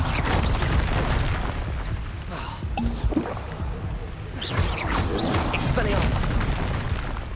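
Fiery Incendio spell blasts in Hogwarts Legacy, a rushing, booming roar that stays loud and sustained over game ambience, with a voice talking over it.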